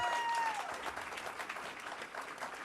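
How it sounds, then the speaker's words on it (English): Steady applause from a small group fills the space, a dense patter of clapping with a faint tonal ring fading out at the start. It is for the camera crew of a cooking show. "give them a big round of applause"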